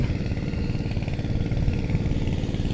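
Water pump engine running steadily in a rice field, a loud, close, rapid chugging drone that stays unbroken throughout, with no voices.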